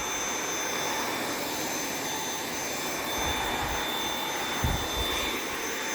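Dyson V8 cordless vacuum cleaner running on its minimum setting, a steady, fairly loud whine and airy roar that holds unbroken, with a few brief low thumps as the brush head moves near furniture.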